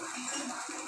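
Raw plantain slices being turned over in a frying pan, with a close metallic scrape and clink of a utensil against the pan over a steady sizzling hiss.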